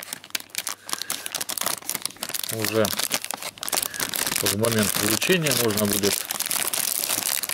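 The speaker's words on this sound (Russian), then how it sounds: "Пакетик и аккуратно упаковываем так, чтобы наша розочка в пакетике расправилась." A plastic bag crinkles and rustles as a gift is wrapped, sharp crackling bursts close up, while someone talks over part of it.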